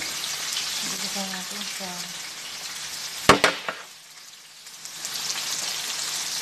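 Onions frying in butter in a pan make a constant crackling sizzle. A voice speaks briefly early on, a sharp clatter cuts in midway, and the sizzle dips before returning.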